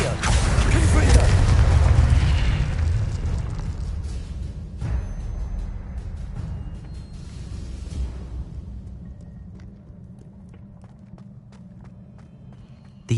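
Confringo blasting spell in Hogwarts Legacy: a heavy, close explosion that rumbles loudly at the start and decays over several seconds, followed by thuds and scattered clatter as the roar tails away.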